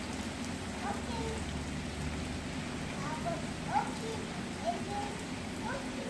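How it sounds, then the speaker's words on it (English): Rain falling steadily on an outdoor residential area in Rawalpindi, a constant soft hiss with occasional louder drops and faint distant sounds in the background. "It's raining in DHA 1 Rawalpindi"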